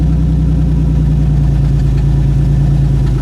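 An old Regal demolition derby car, run with no coolant, idles steadily up close with a loud, even low rumble that holds without revving for the whole stretch.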